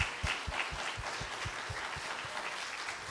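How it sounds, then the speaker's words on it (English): Applause from a church congregation for the fathers at a Father's Day Sunday service, a dense steady patter of many hands filling the room with no voices over it. "if all the fathers in the room, please receive an applause"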